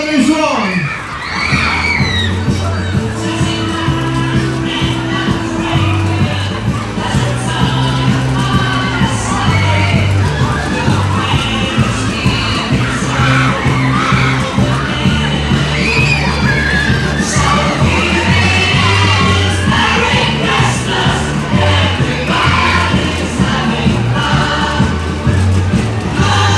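People sledding in snow scream and yell together in a loud, sustained crowd roar, with whoops and shouts rising and falling over a rumbling background for nearly half a minute.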